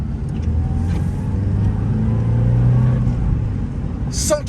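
An old 1994 Subaru with about 148,000 km, little driven for ten years, rumbles steadily at low revs as it pulls away gently, the engine drone close and continuous with faint cabin noise.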